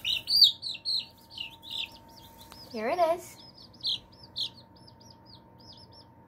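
Baby chicks huddled under a heater chirp in quick, high, repeated peeps through the whole stretch, with a brief lower fowl call in the middle and people talking nearby.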